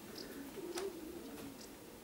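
Young pigeons on a trial flight near the loft, with soft low cooing drifting faintly through a steady background hum, one brief coo standing slightly clearer midway.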